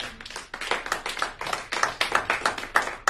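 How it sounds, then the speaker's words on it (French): A church congregation claps loudly and steadily for about three seconds, with crisp, closely packed hand claps forming a rapid, even rhythm and no voices. "est-ce que tu peux acclamer très fort?"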